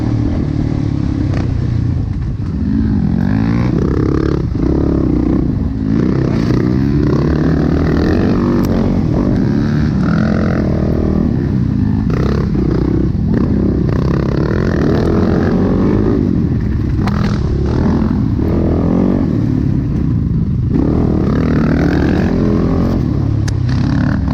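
Off-road race vehicle engines roaring during an off-road race in the SORCS series at Coal Miner, a loud continuous rumbling drone with revving surges and clatter from rough terrain, close and sustained.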